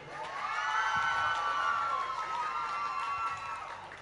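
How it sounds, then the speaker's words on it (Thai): A seminar audience of southern regional sales agents claps and cheers for the coordinating team, a sustained wash of crowd noise with some whoops, steady and moderately loud throughout. "ขอเสียงปรบมือให้ทีมงานผมด้วยครับ"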